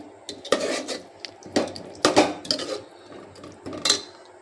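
Palak gravy being stirred in a pan, with repeated scraping and clinking of a spoon against metal in irregular bursts, close and moderately loud with no talking.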